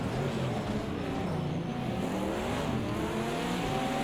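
Race cars at Laguna Seca in a sportscar racing video game, mixed GTD classes, roar past with a steady loud engine drone and shifting revs, sustained throughout without talk.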